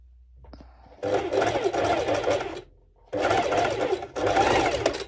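A sewing machine runs a very tiny straight stitch on bikini bottom fabric in three steady bursts, pausing briefly between them, fairly close and alone.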